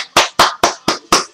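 Six crisp, evenly spaced hand claps ring out close and loud in a quick, steady rhythm, a lone person mimicking a game show audience's canned applause.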